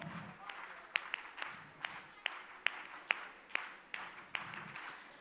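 An audience at a women leaders' convention claps together in a steady rhythm, about a dozen sharp, evenly spaced claps at moderate distance, with a voice talking faintly underneath.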